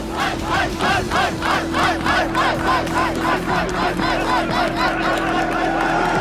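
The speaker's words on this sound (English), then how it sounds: "everything is getting underway and the fans are getting warmed up" A loud arena crowd of esports fans cheers at a League of Legends playoff semifinal, sustained roaring with rhythmic chanting pulses repeating throughout.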